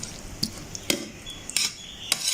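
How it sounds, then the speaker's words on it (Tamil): A spoon stirs white drumstick curry in a metal pot, giving a handful of light clinks and scrapes spaced about half a second apart, close and fairly clear, with no talking. "மிக்ஸ் பண்ணி விடுவோம்."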